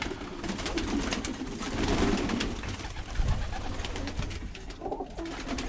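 Birmingham Roller pigeons coo steadily inside a breeder loft, a close, continuous layered murmur of soft calls and rustling with no talk over it.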